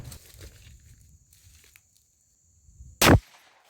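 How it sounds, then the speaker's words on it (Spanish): A less-lethal pistol fires rubber ball ammunition at a glass bottle from about 7 meters. After faint rustling and a moment of near silence comes one sudden, loud, very short crack. "Nuestra munición Rubber Ball tiene la potencia para romper una botella de vidrio."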